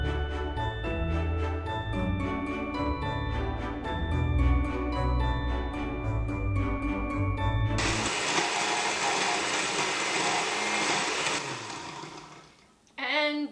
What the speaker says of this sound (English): My blender actually has a pretty hard time with things like dates.